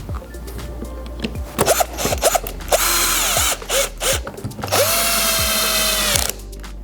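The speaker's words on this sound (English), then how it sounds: "we now put the screws back in to lift the cover back on" A power driver runs screws back into the cover of an actuator, with clicks and handling noises leading up to two sustained bursts of whirring motor sound, each a second or more long.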